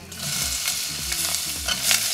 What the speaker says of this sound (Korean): 마늘이랑 양파 넣고 볶아줍니다.